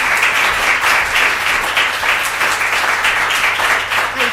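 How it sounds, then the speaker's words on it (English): Audience applause for councillor Mattie Heaven at a talk on the body as a political tool, a steady, dense round of clapping from a crowd that holds evenly throughout with no one speaking. "a round of applause for Mattie before she"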